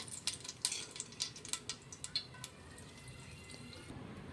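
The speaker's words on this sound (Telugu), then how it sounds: "నేను దాంట్లో నెయ్యి వేసుకుంటున్నా ఫస్ట్ అయితే" Ghee is poured into a pot on a stove, giving faint, quick liquid drips and small spatters that fade into a low, quiet background.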